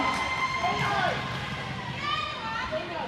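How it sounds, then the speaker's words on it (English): Crowd at a roller derby bout between WestSide BestSide and Capital Brawlers, a sustained mass of cheering and shouting voices filling the venue, with higher children's yells standing out. "The crowd's getting some excitement for the Brawlers here."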